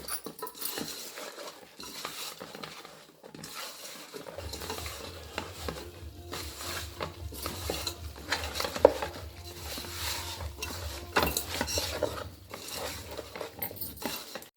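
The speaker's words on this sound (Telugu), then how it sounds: "అల్లం పేస్ట్, ఇవన్నీ బాగా కలుపుదాం" A spoon stirs ginger paste with chicken and other biryani ingredients in a pot for a homemade Telangana-style chicken dum biryani, giving soft, steady scraping and wet mixing sounds with a faint sizzle underneath, quiet and close.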